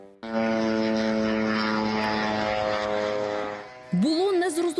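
A drone's propeller engine hums loudly and steadily overhead, flying near Vilnius at about 200 metres altitude, a sustained buzzing tone that cuts off near the end as a different, wavering sound begins.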